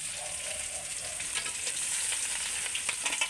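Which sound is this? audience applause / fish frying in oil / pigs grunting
fish frying in oil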